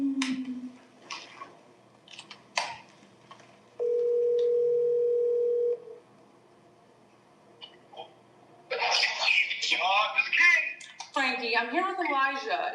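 A telephone dial tone sounds steadily for about two seconds while a phone call is placed during a wrestling livestream, framed by scattered clicks and followed by lively talking.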